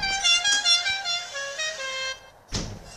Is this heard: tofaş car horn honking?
yes